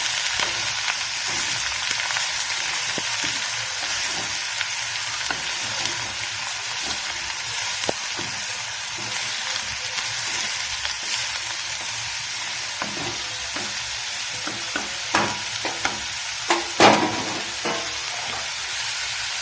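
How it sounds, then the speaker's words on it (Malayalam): Onion stalk thoran sizzles steadily in a pan while being stirred, with occasional sharper scrapes and pops over a continuous frying hiss and no talk. "നമുക്കൊന്ന് ഇളക്കി കൊടുക്കാം."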